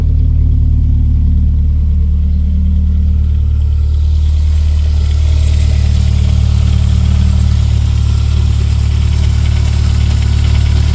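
A 500bhp Toyota Celica GT-Four ST205 road car idles while warming up, with a loud, close, steady deep engine drone and a slight rise in tone partway through, with no talking.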